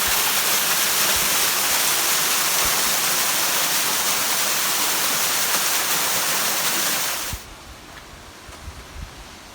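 Waterfall on a hiking trail in the San Gorgonio area, a loud, steady roar of falling water that cuts off sharply near the end, leaving faint quieter background with small knocks.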